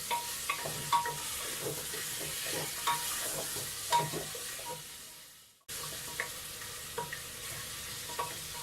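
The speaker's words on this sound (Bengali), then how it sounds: "এভাবে 5-6 মিনিট ভেজে নিতে হবে।" Beef pieces and pumpkin fry in a pan with a steady sizzle while a utensil scrapes and stirs in repeated short strokes; a brief silent gap interrupts midway, then the frying resumes.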